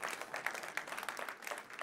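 Theatre audience applauding after a comedian's performance at a colloquium, a dense, close burst of many hands clapping, steady for under two seconds.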